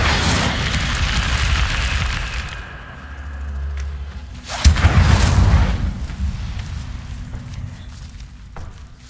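Incendio fire spells cast in Hogwarts Legacy give two bursts, a crackling whoosh at the start and a sharper booming blast near the middle that flares and trails off into a low rumble, with no speech.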